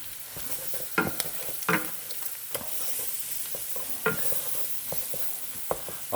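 Flour is stirred into cooked sausage in a pan for sausage gravy, giving a soft, continuous sizzle with scattered scraping stirs and occasional louder knocks of the utensil, near and without talk.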